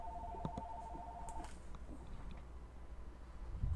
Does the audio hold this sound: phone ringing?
yes